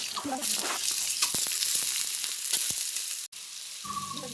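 Potatoes fry in hot oil in a kadai with panch phoron, a loud continuous sizzle with scattered clicks of stirring, briefly cut off before the frying hiss returns alongside a faint tonal whine.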